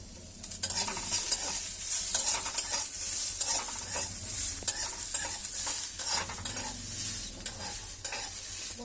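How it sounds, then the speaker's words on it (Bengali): Cashews and raisins fry in ghee while being stirred, giving a close, steady sizzle broken by scraping spoon strokes against the pan. "আমার কাজুটা আর কিশমিশটা একটু ভেজে নিয়েছি ঘি দিয়ে"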